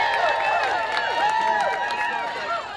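A rally crowd applauds and cheers loudly, many voices whooping over steady clapping in a thick, continuous roar that eases slightly toward the end.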